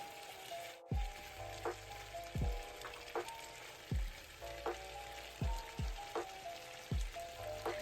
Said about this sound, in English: whenever you add in new ingredients, you have to keep stirring them, keep mixing them, make sure that every piece get the sauce